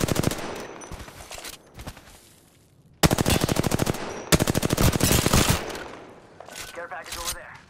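Rapid automatic gunfire in Apex Legends crackles in dense, loud bursts separated by short pauses, with a second burst starting abruptly and fainter game sounds between volleys.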